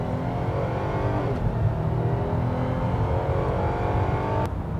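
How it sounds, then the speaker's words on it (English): A car engine revs high and steady under an automatic gearbox, a loud droning roar that holds strained and constant throughout. "the automatic box is revving its nuts off"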